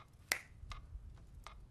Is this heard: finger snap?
yes